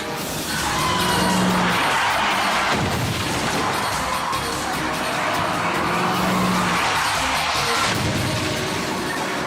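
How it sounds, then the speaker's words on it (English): Vehicles colliding in a highway pileup crash involving a Mustang, with loud continuous road and engine roar, tire noise and impact thuds throughout, no talk. "The couple is battered in another violent collision."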